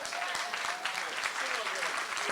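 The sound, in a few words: audience applause at town hall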